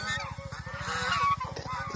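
Geese honk on a goose farm with open grazing ground, a dense flock sending out loud, overlapping nasal calls close by, with no voices heard.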